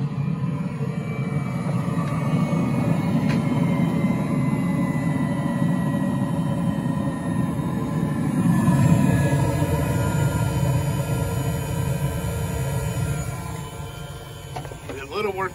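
An Espar diesel coolant heater cycling down, a steady mechanical rumble and whir, near and low, gradually easing, with no one speaking.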